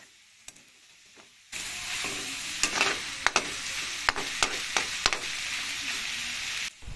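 After a quiet start, pork frying in a pan with fish sauce breaks into a sudden loud, steady sizzle, while a spatula stirs with repeated sharp scrapes and taps until the sizzle cuts off near the end.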